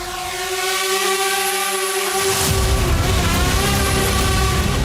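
Attack drone engines drone over Kazan, a loud, sustained buzzing tone with strong harmonics that swells and thickens midway, a continuous mechanical whine with no voices.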